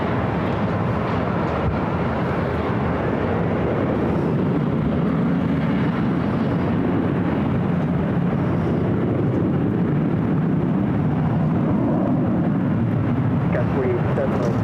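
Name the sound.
airliner taking off from runway 24 left at LAX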